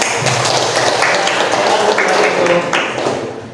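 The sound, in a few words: applause after a presentation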